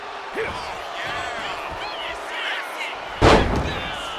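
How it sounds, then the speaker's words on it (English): A wrestler is slammed onto the ring mat during a WWE-style match, one sharp heavy thud standing out near the end over ongoing commentary and crowd noise. "Opponent slammed down."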